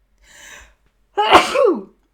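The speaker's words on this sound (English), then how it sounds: "Oh, I'm about to sneeze." A single sharp sneeze, close and loud, preceded by a faint breathy inhale.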